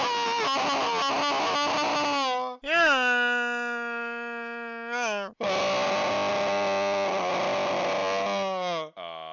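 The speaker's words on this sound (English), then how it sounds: "They started making little screams for the villagers" Friends scream and wail into a microphone as villager death sounds for a lava game: three long, loud, strained vocal cries separated by short gaps, close and raw, the first one shaky and pulsing.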